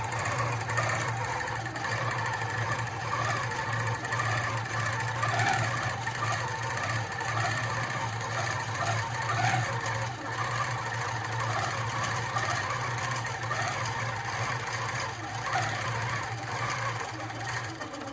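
A longarm quilting machine stitches a ribbon candy pattern on a Tilda Gardenlife quilt, giving a steady, loud mechanical hum with a rapid regular needle rhythm throughout.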